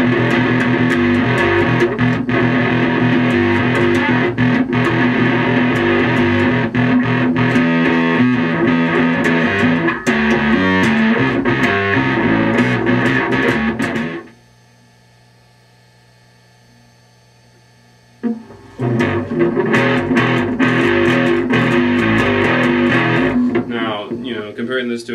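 Fingerstyle electric guitar through a Wren and Cuff Pickle Pie B fuzz pedal, thick distorted sustained notes and chords ringing loudly, then a pause of near silence before the fuzzy playing resumes.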